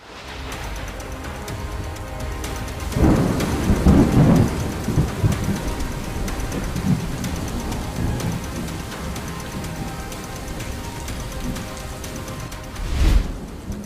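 Heavy, steady rain pours throughout during Cyclone Fengal, with thunder rumbling loudly around three to four seconds in and a sharp, close crack of thunder near the end.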